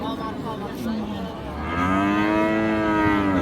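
A Holstein Friesian cow with her calf at a rural cattle market in Dinajpur lets out a loud, close, drawn-out moo that swells and deepens over a few seconds, with market noise behind it.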